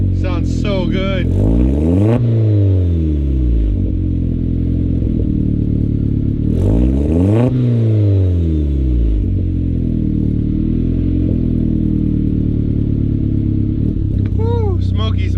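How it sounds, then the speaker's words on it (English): A big-turbo Volkswagen GLI on its second startup after clutch bleeding revs loudly through its exhaust, with two strong rising-and-falling rev sweeps over a constant idle drone, heard close up with no talking. "So I'll let you guys hear it if you guys want to hear the exhaust."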